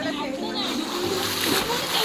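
Water splashes and sloshes as someone is dunked, a busy close splashing mixed with excited children's and adults' voices talking over it throughout.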